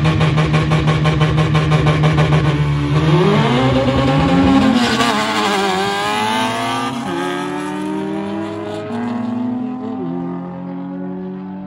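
A Nissan GT-R launching hard down a drag strip, engine roaring and climbing steadily through the gears with clear shift dips, loud and close from inside the car as it pulls away for about ten seconds.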